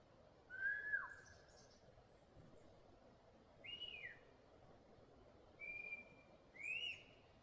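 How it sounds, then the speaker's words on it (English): Jays call at a remote campsite: four short whistled calls come at spaced intervals, faint and somewhat distant, over a quiet background hiss. "That's the jays. Those are the birds that are only with them, always."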